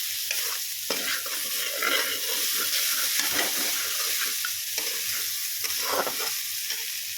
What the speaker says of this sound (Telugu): ఇలాగా కొంచెం బ్రౌనిష్గా వచ్చేంత వరకు కొంచెం ఫ్రై చేసుకుందాం